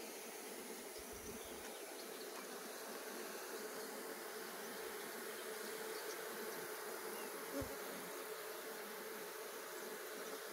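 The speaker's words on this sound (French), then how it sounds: "normalement, il y a beaucoup plus d'abeilles que ça" Honeybees buzz in a steady, dense hum around beehives during a hive inspection, a soft continuous drone close to the listener with occasional faint bumps and no talking.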